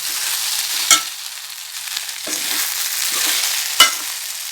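Okra sautéing in a pan: a continuous sizzling hiss with two sharp scraping thumps of a spatula and a few softer stirring strokes, no voices.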